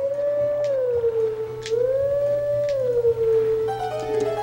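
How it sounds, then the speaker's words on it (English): Wolf Link howls in Zelda: Twilight Princess, a long melodic wavering howl that rises and falls in a tune over a low game hum, followed by a brief chime-like musical flourish. "Okay, so go over to this grass and howl."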